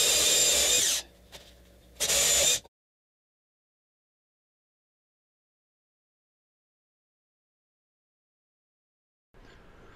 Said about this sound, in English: I'll be basically drilling two holes here and using the standoffs and the screws